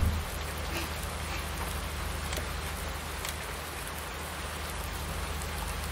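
Heavy rain falling in Farming Simulator 19, a dense, steady hiss of downpour that stays loud and unbroken from start to finish.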